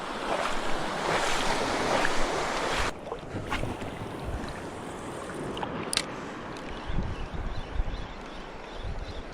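Steady washing of gentle, calm sea waves at Dicasalarin, Baler, with a constant rushing surf and wind noise, broken by an occasional splash or knock close by.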